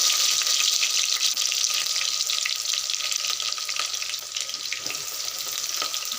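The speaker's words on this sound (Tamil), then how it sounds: "இப்போ இதில் வந்து கட் பண்ணி வச்சுருக்க சின்ன வெங்காயம் போட்டுக்கலாம்." Chopped small onions frying in hot oil with cardamom and spices for chicken curry, a dense, loud, continuous crackling sizzle filling the clip, close up with no voices.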